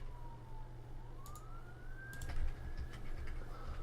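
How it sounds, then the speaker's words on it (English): A distant siren wails, rising and falling slowly over a low rumble of traffic, with a few faint clicks near the end. "Seem to be a lot of sirens out lately."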